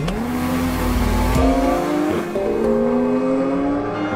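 A car on Michelin Pilot Sport Cup 2 tyres drives off, its engine revving up through gears with rising pitch, loud and close, with a brief tyre squeal.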